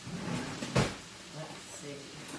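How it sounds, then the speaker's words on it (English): A kitchen drawer or cupboard opens with a single sharp wooden knock and slide in a newly moved-into home, followed by faint rummaging, with no one speaking. "Let me check another drawer."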